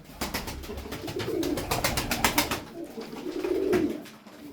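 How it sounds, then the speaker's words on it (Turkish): Fancy pigeons cooing close by, soft repeated throaty coos with a steady rhythm, no talking. "Elimde böyle yedi tane masa kuşu var, kostüm kuşu var."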